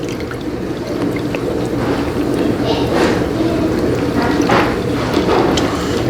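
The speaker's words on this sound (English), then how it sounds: "I got 2 cups of water here. Pour that in." Two cups of water poured into a pot of creole while cooking, a soft splashing and liquid rush with a few clinks, under a speaking voice.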